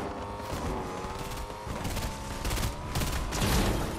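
Rapid gunfire in a Fortnite duos match, a run of close, loud shots building toward the end over a background drone, with no talk.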